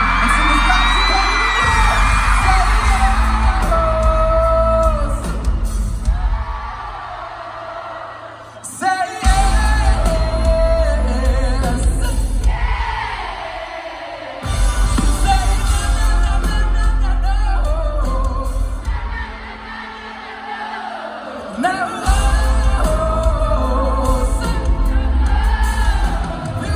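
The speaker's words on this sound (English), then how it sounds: "I need you to scream and sing this back to me" Concert crowd screaming and singing along at a live show, a loud, dense roar of voices with yells and whoops, surging and dropping in long waves over heavy thumping bass and booming hits.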